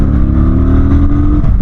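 Kawasaki Vulcan 900 Classic LT motorcycle engine revving in too low a gear, a loud steady drone close by that swells briefly and eases off.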